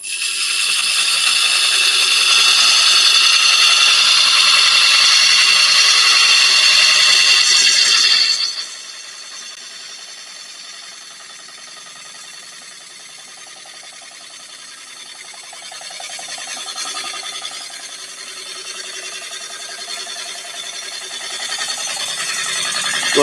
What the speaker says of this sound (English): I think I'll use my swept back gouge